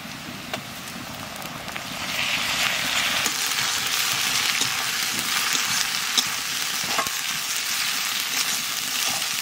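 Onions frying in a pan for a Bengali duck egg curry, giving a loud, steady crackling sizzle that swells after a couple of seconds and carries on with occasional faint stirring ticks.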